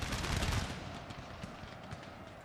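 Massed horse hooves from the Napoleon: Total War battlefield, a busy clatter of many galloping cavalry, loudest at the start and fading, with scattered gunfire behind it.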